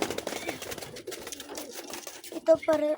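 Pigeons in a new loft give soft cooing calls near the end, after a stretch of handling noise and rustling, fairly close and moderately loud.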